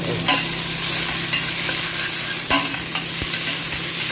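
Chopped onion and ginger fry in a hot pan for a vegetable marag, a dense, loud, continuous sizzle close by, with a few scattered scrapes and taps from stirring.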